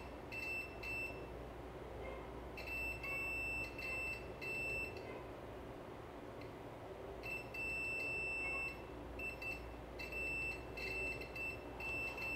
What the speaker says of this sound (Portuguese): Vou ligar aqui um multímetro. E vamos ver se tem algum componente aqui nos dois lados, né? Bipando, né?